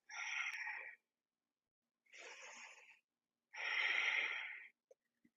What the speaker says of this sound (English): exhale into the twist